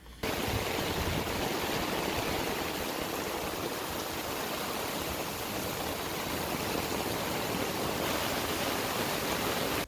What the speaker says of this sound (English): we have an uphill neighbor that's just hemorrhaging water onto the property here